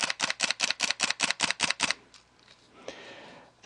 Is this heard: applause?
no